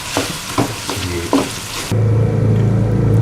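Tomatoes frying in oil for mutton karahi, a loud close sizzle with rhythmic spoon strokes that gives way to a steadier, denser sizzle.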